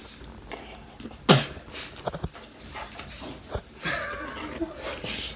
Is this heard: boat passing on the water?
no